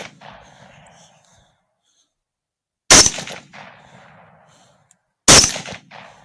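Two sharp, loud shots from a 6.8 rifle fired at hogs ring out a couple of seconds apart outdoors, each followed by a rolling echo, with faint rustling before the first.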